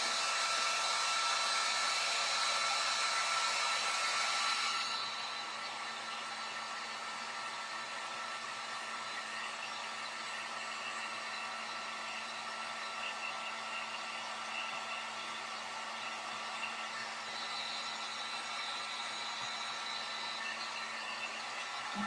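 A hair dryer blows on painted red beads, roaring loudly and close for about five seconds, then running on as a lower, steady whoosh until the end.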